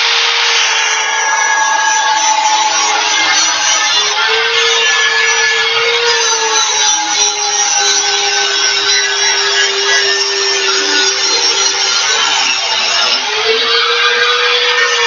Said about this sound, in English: Next step, we're going to do the same thing with the flap disc.